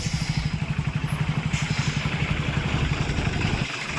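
A two-wheeler engine idles close by with a fast, throbbing putter, then pulls away and fades near the end.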